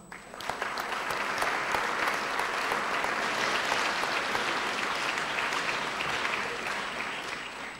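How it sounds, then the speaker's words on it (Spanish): Strong, sustained applause from an audience at a graduation ceremony, welcoming musicians about to play a tango piece; dense, even clapping fills the hall for several seconds with no talk over it. "Recibámosle con un fuerte aplauso."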